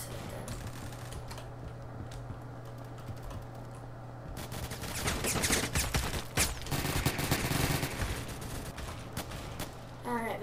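Gunfire in the online shooter Phantom Forces, with bursts of rapid automatic shots crowding the second half over a steady game hum, fairly loud and continuous, with faint clicking early on.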